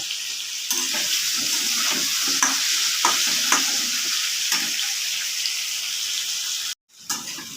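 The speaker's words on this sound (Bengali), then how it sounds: "এখন পেঁয়াজটা আমার আধা ভাজা হয়ে গেছে" Diced onion fries in a pan with potato and pumpkin, a steady close sizzle broken by a rhythmic series of stirring scrapes, then a brief cut and a short resumption, with no voices.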